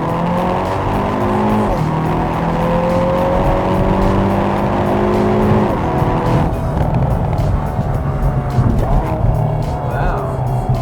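A 2021 Hyundai Veloster N with an 8-speed dual-clutch transmission accelerates hard toward 60 mph on a rainy road, its engine note climbing steadily through several rising gear sweeps, loud and continuous inside the cabin, with brief speech.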